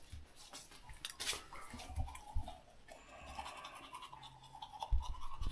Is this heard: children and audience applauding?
no